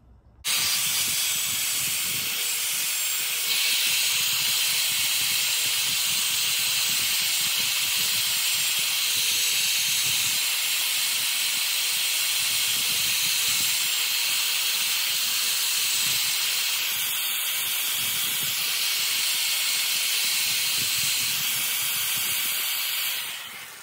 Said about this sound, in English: Get to sanding.